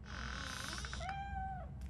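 A cat in the RoboCop Rogue City video game gives two clear meows, a short one then a longer drawn-out one, alone over a steady low background hum.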